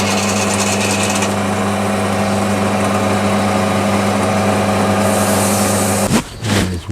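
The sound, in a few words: emery tape cleaning up a spinning metal part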